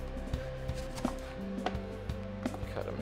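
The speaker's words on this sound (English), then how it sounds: "I'm gonna go ahead and cut and juice my citrus" Kitchen knife cutting lemons on a cutting board, a few close, separate chopping thunks spaced irregularly over a low steady background hum.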